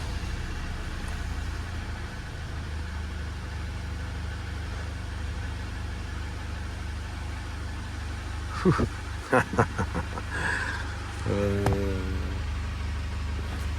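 A Jaguar XF with a 2.0 Ingenium engine runs at a steady idle just after a timing chain replacement, producing a continuous low hum with a few brief clicks and a short electronic tone near the end.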